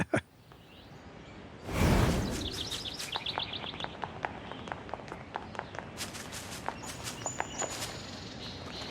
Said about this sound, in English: You can hear those birds.